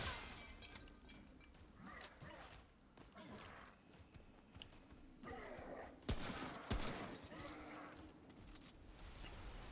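Hunting rifle and SMG fire in Remnant: From the Ashes combat: scattered bursts and sharp shots among clattering game effects, with two louder cracks near the end, under a busy mix of in-game sounds and a voice.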